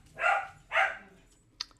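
A dog barks twice in quick succession nearby, loud and sharp, followed by a fainter brief yip or squeak, in an otherwise quiet indoor setting.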